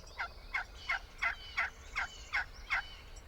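A box turkey call, with its paddle drawn across the wall, produces a series of eight evenly spaced, raspy yelps that imitate a wild turkey. The yelps are clear and close over faint background noise.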